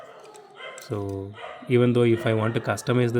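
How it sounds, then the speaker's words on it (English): Several sharp stray dog barks in quick bursts, fairly close, overlapping someone talking steadily. "I'm really sorry for the noise, guys. Stray dogs,"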